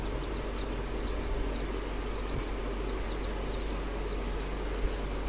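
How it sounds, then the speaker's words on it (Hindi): A desi hen with her chicks on a poultry farm, bright high chirps repeating through the clip over a loud, steady, broad hum. "ये हमारी मुर्गी बच्चों के साथ में है,"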